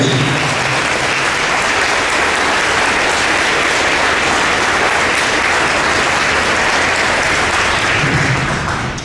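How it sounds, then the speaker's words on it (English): A large crowd at a Marine Corps JROTC birthday celebration gives veterans a loud, sustained round of applause, dense and unbroken for about nine seconds before starting to taper at the end. "Round of applause for our veterans."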